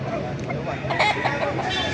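Chicken sounds at an outdoor poultry market in Baliuag, Bulacan, with short clucks and squawks over a busy background murmur of the crowd.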